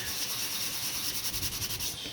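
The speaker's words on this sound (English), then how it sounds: "sanding to knock any burrs off" Sandpaper rubs back and forth over the top surface of a 3D-printed part, a close, steady raspy hiss with quick repeated strokes and no talking.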